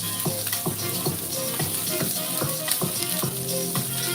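One-inch-thick steaks sizzle steadily in a hot pan, a loud, close, continuous frying hiss broken by regular light rattling taps.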